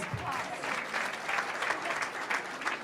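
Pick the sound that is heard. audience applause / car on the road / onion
audience applause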